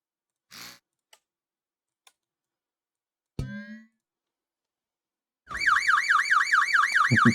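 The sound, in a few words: fire alarm buzzer in a video game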